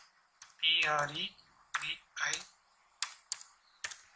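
Computer keyboard typing in a web design lesson, heard as a few short bursts of clicks and key taps spread across a few seconds, close and moderately loud with quiet gaps between.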